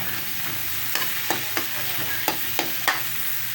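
Sliced ginger sizzling in hot margarine in a pan for a mussel and moringa dish, a steady loud frying hiss broken by several regular scraping stirs.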